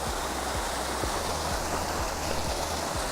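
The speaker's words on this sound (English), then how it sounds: "Check the waterfall out." Venford Falls on Dartmoor roars as a steady, dense wash of falling water, loud and close, filling the whole moment with continuous broadband rushing and no voices.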